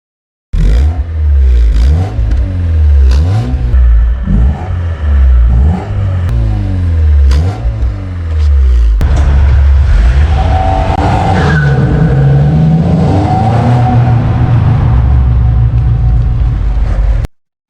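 An Alfa Romeo 155 widebody with a 4-cylinder 1.8-liter 16-valve twin-spark engine, revved repeatedly in loud rising and falling bursts, then a long sustained high-revving run with tire noise, close and continuous.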